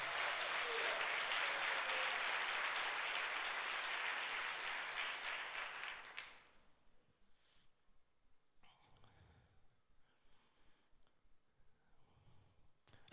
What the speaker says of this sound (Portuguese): Dá um aplauso para o Senhor então.